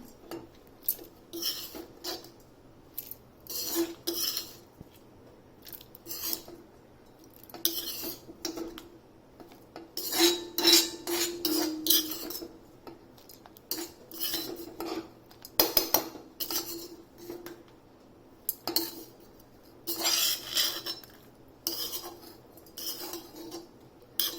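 A metal spoon scrapes cooled ivy gourd chutney mix from a pan into a mixer jar, making repeated clinks and scrapes in irregular bursts, close and fairly clear.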